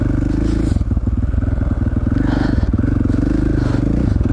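A dirt bike engine riding on snow in Idaho, a loud close continuous rumble that varies slightly with throttle throughout.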